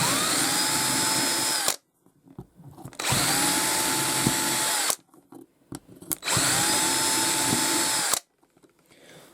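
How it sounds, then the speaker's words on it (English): A power drill drilling through a baseboard runs in three long bursts of steady high whine, each stopping abruptly, with quiet pauses between them. "we can pop it in our drill, and then simply drill through from the top."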